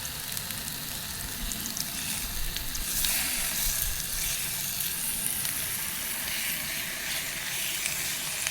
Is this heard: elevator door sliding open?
no